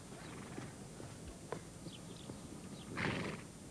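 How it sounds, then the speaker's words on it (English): Horses grazing in a wet field beside a marsh, with faint hoof thuds and shuffling, soft snorts and a brief louder breathy burst near the end, distant birds in the background. "The horses that still graze here are full of beans."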